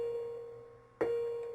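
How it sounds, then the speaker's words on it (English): A school class bell rings at about the one-second mark, a sudden sustained tone that rings on steadily to the end, following a fainter fading tone at the start. "There goes the class bell."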